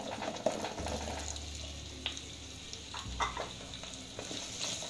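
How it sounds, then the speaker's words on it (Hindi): Cut potatoes drop into hot oil with cumin in a kadhai on a low gas flame, setting off a steady close sizzle and frying crackle that swells after each addition, with some stirring scrapes and no talking. "अब मैं इसमें ये कटे हुए आलू डाल दूंगी"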